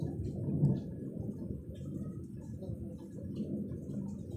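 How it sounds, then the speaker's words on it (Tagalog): Low, distant thunder rumbles steadily through the whole stretch, a deep rolling grumble with a slightly stronger swell near the start, heard without talk. "Kusog sa dalugdog."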